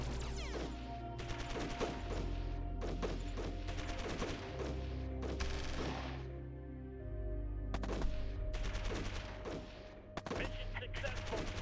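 Units open fire in the strategy game Shadow Empire with dense bursts of gunfire, rapid volleys of shots crackling in clusters over a steady low rumble, some loud and close, repeating across the whole stretch.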